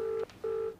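Two short steady tones from a phone keypad as a number is dialed in a TV drama scene, clear and close with a brief pause between them.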